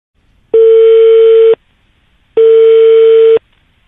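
Two identical loud, steady telephone tones, each about one second long, separated by a short silence, heard alone after a phone call is cut off.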